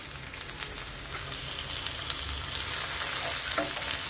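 Chopped tomato goes into onions frying in a pan. A loud, steady sizzle and crackle of hot oil runs throughout, with occasional stirring scrapes and no talking.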